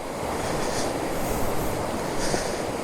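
Rushing water of the forceful Sita river in the Agumbe forest, a loud, dense, continuous roar close by with no pauses and no talking.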